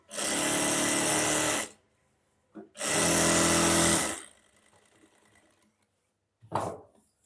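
An electric sewing machine runs a seam on plazo fabric in two loud sustained bursts of rapid stitching, each about one to one and a half seconds, separated by a pause, then a short mechanical clunk near the end.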